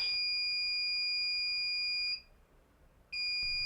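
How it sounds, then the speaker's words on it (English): A MedReady pill dispenser's medication alarm sounds a loud, steady high-pitched electronic tone, which breaks off for about a second and then resumes, with no voices. "When it's time for medications to dispense, the carousel will rotate clockwise 1 spot, and the alarm and the light will flash."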